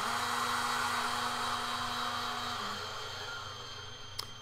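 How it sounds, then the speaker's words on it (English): The motors of a Meade LX200 Classic telescope mount whine steadily while slewing, a droning electric hum with a buzzing tone that drops in pitch and fades toward the end, with a faint click; moderately loud, no talk. "You can hear my telescope slewing away there in the background."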